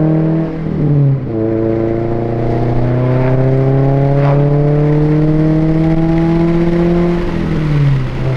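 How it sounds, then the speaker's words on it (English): A Subaru EJ boxer engine with equal-length headers in a WRX STI revs up loudly and holds a steady, smooth tone before easing off, close and continuous with no talking. "when you hear equal length headers on an EJ motor, it sounds really, really, really good"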